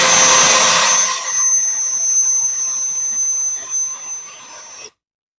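Tanzu brushless turbo jet fan running at its third speed setting, a loud, steady high-pitched whine with piercing tonal hiss that eases slightly after the first second, then cuts off abruptly near the end.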